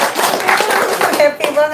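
Audience clapping hands at an Indonesian talk or gathering, a dense burst of applause running under ongoing speech from the host for just under two seconds.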